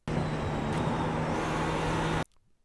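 A GTP prototype race car in the iRacing sim at Spa, loud steady engine roar with a constant drone that holds for about two seconds, then cuts off abruptly into near silence.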